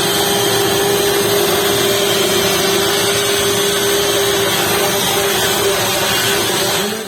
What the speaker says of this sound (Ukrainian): А ось вже роблять основу для начинки завдяки погружному блендеру.